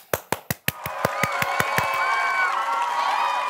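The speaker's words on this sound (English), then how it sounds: "let's give a big round of applause for the So-and-So Show players" An audience applauds and cheers for a show's players: a handful of sharp, separate claps in quick succession, then a sustained wash of crowd clapping and cheering that holds steady to the end.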